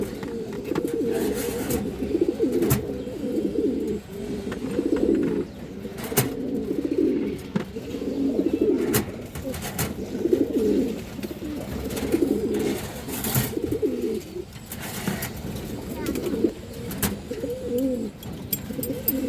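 Pigeons of rare old bloodlines, including a red bird, coo continuously and nearby. Several birds give overlapping rhythmic throaty coos, with scattered faint clicks and rustles.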